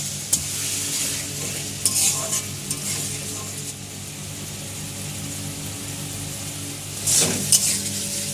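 Potatoes frying with spice masala in a pan, the sizzle steady beneath irregular stirring scrapes and a few clinks of metal on the pan, close and moderately loud, with no talking.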